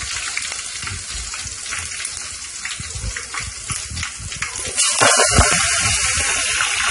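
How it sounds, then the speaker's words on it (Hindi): Datura leaves hit hot oil and sizzle loudly up close, a dense crackling hiss that swells and grows fuller near the end, with no voices. "फिर तेल गर्म हो जाए तो इसमें हमें धतूरे के पत्ता को डाल लेना है।"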